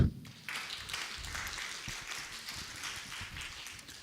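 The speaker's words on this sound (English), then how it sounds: "Give them a clap." Conference audience applauding two presenters at an HIV and infectious disease scientific meeting, a steady wash of many hands clapping that swells after a brief pause and holds evenly to the end.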